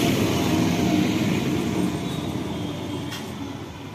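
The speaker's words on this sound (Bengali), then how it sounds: "এই দেখুন ট্রেনটা যাচ্ছে বনগাঁ থেকে শিয়ালদার দিকে" Low rumbling rush of a train from Bongaon toward Sealdah rolling past, steady and fairly loud, fading slightly toward the end with no voices.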